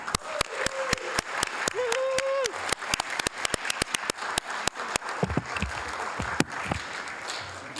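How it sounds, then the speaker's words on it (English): Audience at a city council meeting applauds student winners, with scattered sharp claps standing out over a steady bed of clapping, then fading as a few voices and room noise take over. "Please join me in giving them another round of applause."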